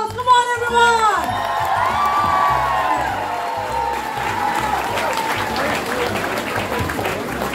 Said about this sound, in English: Let us welcome Rector Major with a round of applause.